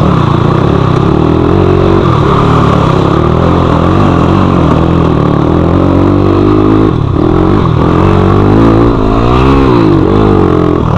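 A Crossfire 250 motorcycle engine revs loudly and continuously on a rough, muddy mountain road, its pitch rising and falling with throttle changes, close and dominant with clattering over the bumps.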